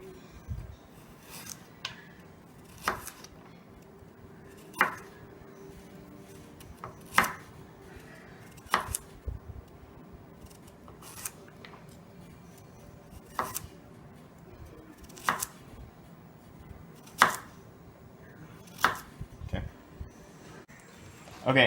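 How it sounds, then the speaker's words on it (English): A knife cuts peeled vegetables into circles on a board, giving sharp, evenly spaced chops about every two seconds over a quiet room background. "Okay, now I'm going to cut them into circles."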